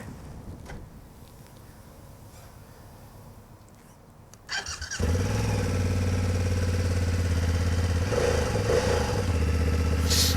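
A 2024 BMW F900 GS motorcycle, a 900 parallel-twin rather than the usual opposed twin, cranks over after a quiet moment and catches, then settles into a loud, steady idle that continues up close.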